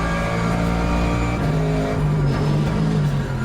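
A Valkyrie or AMG hypercar engine is driven hard on a race track, giving a loud, sustained roar with shifting harmonic tones as it accelerates through the run, close and continuous for about three seconds.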